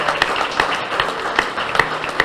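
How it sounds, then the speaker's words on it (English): Applause at a ribbon-cutting celebration for a new residential building: a short burst of lively clapping from a crowd, crisp individual claps standing out, close and loud. "a round of applause."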